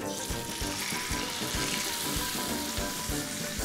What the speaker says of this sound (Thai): ตั้งไฟก่อนพอน้ำมันร้อนนะครับอย่างว่าเราเอาหนังลงเลย